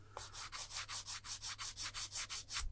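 A sanding board or file rubs over green Squadron putty on a Hot Wheels 2012 Kool Kombi model, giving about a dozen soft rhythmic back-and-forth scrapes, close but quiet, with no voices.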